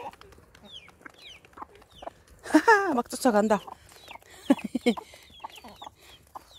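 Hens and young chicks cluck and chirp around scattered feed, with a burst of busy, overlapping clucking in the middle, while a person talks and laughs nearby.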